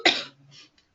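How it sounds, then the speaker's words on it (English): A single sharp cough bursts out at close range, followed by a softer breathy tail and a faint click, with no talking. "I'm having a cough"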